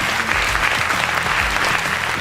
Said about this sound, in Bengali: মাহিরের জন্য একটা জোরে করতালি।